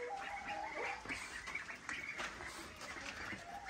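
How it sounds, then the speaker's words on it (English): Ducks in their pen quack and chatter softly and continuously, close but quiet, with repeated short nasal calls overlapping. "we're gonna check on the ducks"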